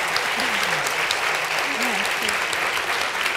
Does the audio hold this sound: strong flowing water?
no